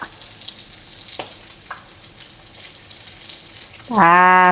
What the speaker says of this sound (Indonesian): Sudah mendidih guys, tinggal tunggu dia lembut.